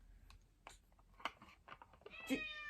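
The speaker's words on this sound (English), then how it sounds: "Yes, cat." A house cat meows several times indoors, a few short rising calls ending in a louder, clearer meow close by, with no talk over it.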